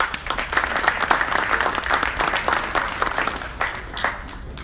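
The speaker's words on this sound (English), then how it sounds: "a big round of applause for Golden Boy's Robert Diaz" A crowd at a boxing press conference at Madison Square Garden gives a loud, close round of applause, a dense patter of many hands clapping continuously with a few voices mixed in.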